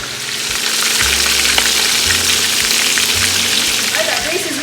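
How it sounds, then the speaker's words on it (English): Chicken thighs and drumsticks fry in hot grease in a cast iron skillet, giving a loud, steady sizzle with scattered pops that runs the whole time under a low hum. "Grease is really sizzling"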